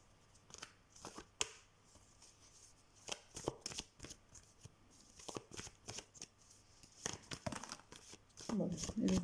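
Playing cards riffle and shuffle in several quick bursts close by during a tarot-style card session, with a person talking softly between and over the shuffles.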